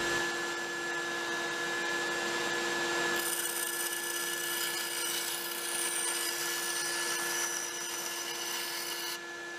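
A bandsaw cutting wood into small pieces for HO scale lumber loads, giving a steady close whine with a constant hum and broadband rasp that brightens partway through as the blade bites into the stock.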